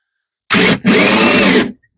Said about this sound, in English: I gotta grab a drill with one hand